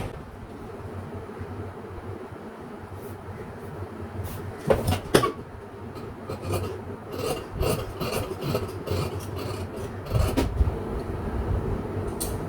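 Scissors snip through blouse cloth in a series of crisp, rasping cuts at an irregular pace, close and moderately loud over a low background rumble, without talk.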